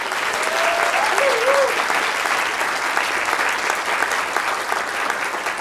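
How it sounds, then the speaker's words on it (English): Dense, sustained applause fills the room as a conference audience at a closing session claps steadily and loudly throughout, a brief whoop rising near the start. "Can I have a round of applause for all of the above?"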